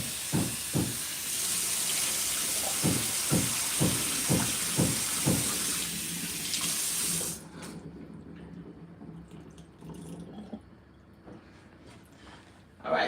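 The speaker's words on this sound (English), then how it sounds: "I'm going to rinse off these veggies. That's my garlic and my onion. I'm going to rinse this off real quick." Garlic and onion rinsed under a running kitchen tap, a steady broad hiss of water for about seven seconds with rhythmic knocks of handling, then stopping to quieter sink clatter.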